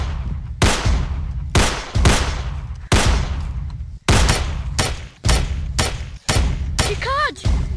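Rapid gunshots boom one after another in a fast, irregular volley of about ten loud, heavy blasts with short decaying tails, ending in a brief high whistling tone.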